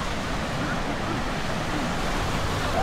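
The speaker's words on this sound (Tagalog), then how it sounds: "Pero yung alon, sakto lang, ano?" Ocean waves wash steadily onto the beach at Morong, Bataan, a continuous broad rushing surf with some wind, moderately loud and unbroken throughout.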